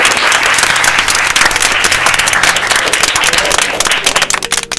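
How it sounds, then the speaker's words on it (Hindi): Schoolchildren in a classroom clap together on cue, a dense, loud burst of applause filling the room and thinning out near the end. "तो बच्चों इनके लिए ताली बजाओ।"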